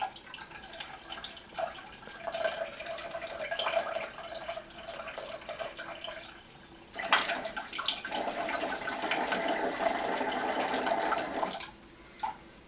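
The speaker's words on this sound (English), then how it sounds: "we have like constant water coming out of that block" Coolant water drains from the lowest point of a PC water cooling loop, a continuous trickling and dripping into a container that surges louder partway through and then stops near the end.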